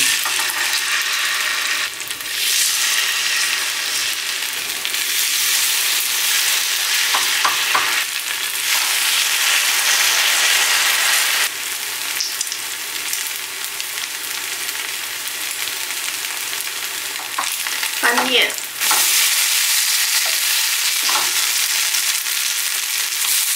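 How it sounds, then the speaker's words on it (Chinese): Potato batter fries in hot oil in a flat frying pan, a steady loud sizzle running throughout with brief scraping and clicking touches as small cakes are formed. "那油烧热之后呢，就加入这个土豆面糊"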